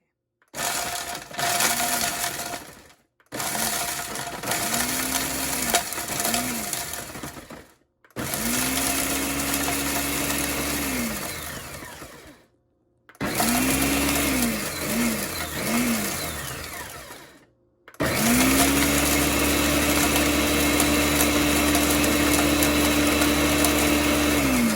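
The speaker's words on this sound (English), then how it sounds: "now that I got those Jolly Ranchers all blended up" Loud countertop blender crushing hard Jolly Rancher candies in a home kitchen, whirring in several bursts separated by brief pauses, motor pitch rising and settling, near and harsh, no talk over it.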